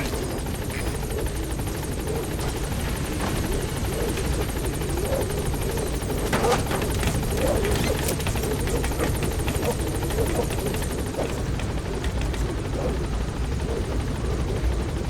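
The Pequod helicopter in Metal Gear Solid V hovers at a landing zone, its rotor a loud, steady, continuous throb and whine close by, with a radio voice speaking over it.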